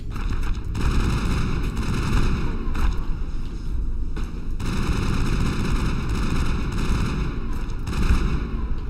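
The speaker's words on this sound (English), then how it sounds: "Rex shoots shotgun." Rex fires a shotgun in the video game Mass Effect, a dense barrage of loud, heavy blasts that repeat over several seconds, with a few brief gaps among sustained rumbling gunfire.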